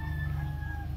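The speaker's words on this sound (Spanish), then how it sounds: "¿Qué pasa este gallo?" Rooster crowing in a brief sustained call over a low steady background hum.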